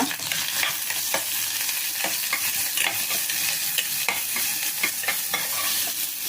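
Sliced onions and curry leaves frying in oil for a cabbage kurma, with a steady close sizzle and repeated spatula scrapes and clinks against the pan throughout.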